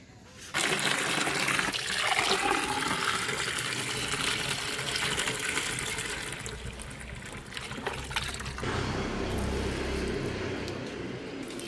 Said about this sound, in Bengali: সকালে এসেছি গাছে জল দেব বলে